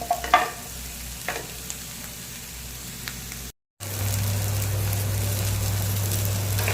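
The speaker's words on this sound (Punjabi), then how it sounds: "ਬੈਂਗਣਾ ਹੈਗਾ ਜਿਹੜਾ ਆਪਾਂ 5 ਮਿੰਟ ਜਿਹੜਾ ਹੈਗਾ ਇਹਨਾਂ ਨੂੰ ਪਕਾ ਦੇਣਾ ਹੈ" Eggplant (brinjal) cooking in a pan, a soft steady sizzle with a few light clatters early on, then a brief cut and a louder, even frying hiss with a low hum underneath.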